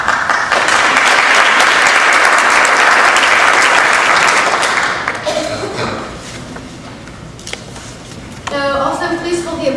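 Loud, sustained audience applause at a Milton High School National Honor Society induction ceremony for a newly called inductee, a full crowd clapping for about five seconds before it dies away and a voice speaks.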